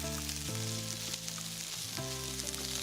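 Spices and fenugreek leaves fry in a pan, giving off a loud, continuous sizzle with occasional stirring scrapes and a low hum in the background.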